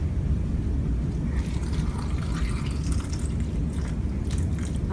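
Tap water runs steadily over a tomato at a kitchen sink, a continuous splashing wash with small drips and squishes, close and fairly loud, with no talking.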